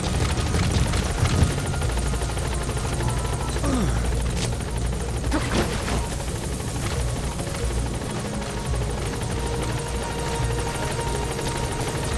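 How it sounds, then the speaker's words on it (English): Support helicopter in Metal Gear Solid V: The Phantom Pain arriving at a landing zone, a loud steady rotor drone and engine hum filling the whole stretch, close and continuous with no talk over it. "Support helicopter has arrived."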